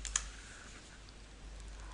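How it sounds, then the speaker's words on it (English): A single sharp click of a computer keyboard shortcut being pressed, close and brief, followed by a quiet room with a faint low hum and no speech. "I will select all entries in my database using the keyboard shortcut Ctrl+A."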